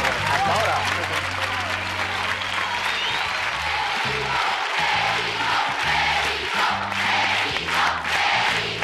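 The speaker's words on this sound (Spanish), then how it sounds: "con este fuerte aplauso te despedimos" Studio audience at a Spanish TV game show giving loud, sustained applause with crowd noise, while someone talks over it and music plays underneath throughout.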